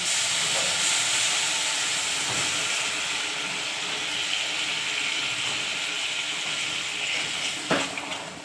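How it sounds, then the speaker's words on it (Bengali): Water poured into a hot pan of egg curry, a loud sustained hiss of steam and sizzle with a brief clank near the end, with no talking. "এবার জল দিয়ে দিচ্ছি"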